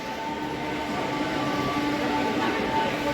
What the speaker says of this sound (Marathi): इथे पहा ट्रेन येऊन थांबलेली आहे